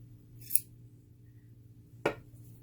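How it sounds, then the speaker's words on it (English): Scissors cut pieces of wool with two quiet, crisp snips spaced about a second and a half apart, against a faint low hum. "Now I'm going to cut those pieces of wool out with my scissors."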